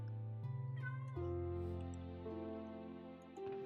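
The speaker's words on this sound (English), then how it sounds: "I have 2 cats." Cats in the video game Minecraft meow softly, a few drawn-out, tonal mews that slide in pitch and run together over a quiet background.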